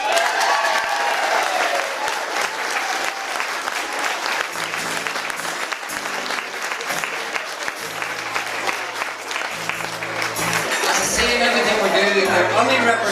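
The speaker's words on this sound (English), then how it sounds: "let's have a big round of applause for Anna McGorn" Audience applause at a school reunion honouring a former pupil of Derryhallow School, steady and full throughout, with voices and a few low tones mixed in beneath the clapping.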